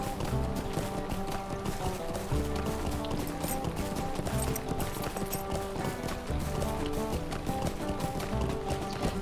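Hooves of a horse in the Lord of the Rings Online video game clop steadily at a run, dense and continuous under layered game music and ambience with no talk.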